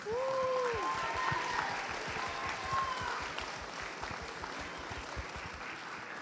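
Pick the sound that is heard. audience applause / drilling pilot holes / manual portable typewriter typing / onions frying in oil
audience applause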